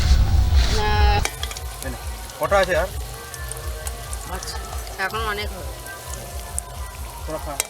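Pumpkin fritters sizzle steadily in hot oil outdoors, a close crackling patter like rain on a surface, while people nearby talk briefly over the frying.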